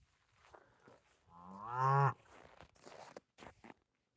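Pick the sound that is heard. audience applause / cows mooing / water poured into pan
cows mooing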